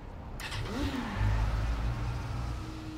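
A motorcycle in Saints Row: The Third fires up and revs, its engine rising in pitch then settling into a loud, rough idle, close and with no voices over it.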